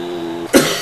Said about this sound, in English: I want you to stop coughing